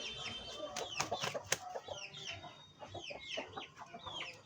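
Aseel chickens in Amritsar cluck in quick, irregular bursts with a few sharper squawks, several birds close together and fairly quiet, with no talk over them.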